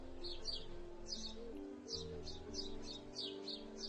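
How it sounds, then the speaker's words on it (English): Small birds chirp in quick repeated bursts of high tweets, faint and fairly distant, over a low steady background hum with no talking. "Listen to the sounds of those chirps."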